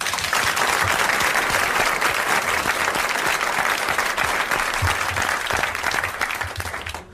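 A studio audience at a 1981 French television show gives loud, sustained applause, with thick clapping that continues for about seven seconds before tapering off at the end.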